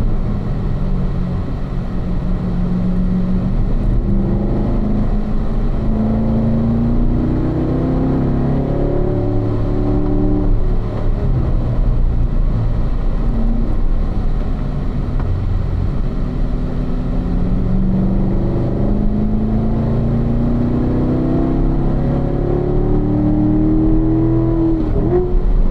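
A car on a race track drones loudly and continuously, its engine pitch sliding up and down through repeated downshifts and throttle changes, with no voices.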